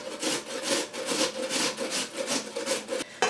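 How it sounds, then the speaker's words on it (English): Potatoes are grated on a regular hand grater, giving rhythmic rasping strokes that repeat about every half second, close and fairly quiet, with no talking. "you can grate your potatoes. You can use a regular grater like this."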